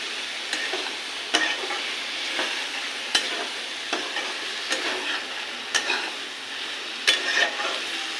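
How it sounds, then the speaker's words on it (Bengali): Brinjal pieces fry and are stirred into spice paste in a pan while cooking a loté fish curry. A steady close sizzle runs throughout, with repeated scraping stir strokes and light clicks every second or so. "এবার দিয়ে দেবো বেগুনটা তো মশলার সাথে একটু কষে তারপরে মাছটা দেবো"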